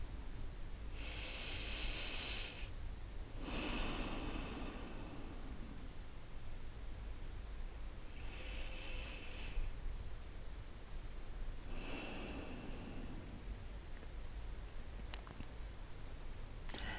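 Slow, deep breaths drawn in and let out during a guided meditation, about four soft airy inhales and exhales spread evenly and heard close with no talking.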